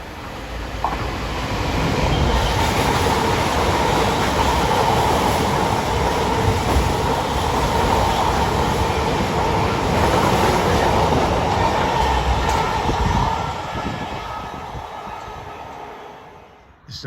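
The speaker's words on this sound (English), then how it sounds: "This is a pair of Class 158 on a service from Norwich to Liverpool Lime Street." A pair of Class 158 diesel multiple units on a Norwich to Liverpool Lime Street service rumble past at close range, a steady roar of engines and rail noise with faint wheel clatter that swells, holds for about twelve seconds, then fades.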